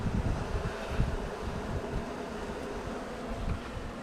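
Honey bees buzzing around a queen-rearing beehive outdoors, a dense, continuous drone of many insects close to the microphone, with some wind rumble underneath and no speech.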